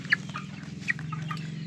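A chicken clucks in short, soft bursts close by, a few sharper clucks standing out over a low continuous background hum.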